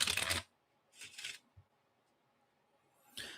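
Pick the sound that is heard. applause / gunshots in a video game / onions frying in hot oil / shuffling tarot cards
shuffling tarot cards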